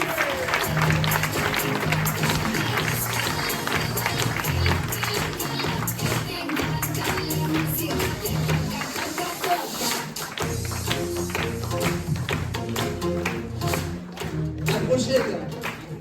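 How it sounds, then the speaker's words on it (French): An audience at a live stage show about Corsica applauds a performer with sustained, dense clapping that runs steadily throughout, while voices and some music carry on underneath the applause. "on peut l'applaudir très fort, Monsieur Boisard"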